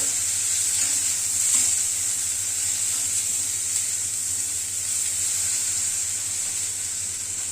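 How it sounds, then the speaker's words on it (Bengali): Vegetables with salt and turmeric sauté in a pan, giving a steady soft sizzle with faint stirring scrapes underneath, continuous and even with no voices. "পরিমাণ মতো নুন হলুদ দিয়ে সবজিটাকে একটু কষিয়ে নেব"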